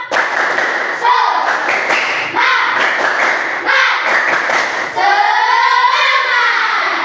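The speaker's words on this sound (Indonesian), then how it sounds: "Tepuk semangat" A class of students performs a rhythmic spirit clap, loud patterned bursts of claps and thumps in short groups broken by brief pauses, with voices chanting along.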